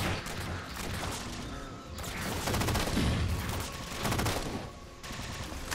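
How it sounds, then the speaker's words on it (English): Sustained gunfire from the video game Halo 4, dense rapid bursts and booming shots layered continuously throughout, loud and close with a few louder swells. "What's shooting at me?"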